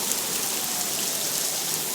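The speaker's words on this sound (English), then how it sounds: "we've never had hail like this here" Hail falling during a storm in Johnson City, New York, a dense, steady hiss of impacts, loud and continuous, with no voices.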